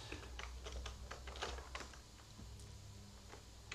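Computer keyboard typing while working on a Linux kernel stack offset randomization patch series, with quick irregular bursts of key clicks close by, no talk.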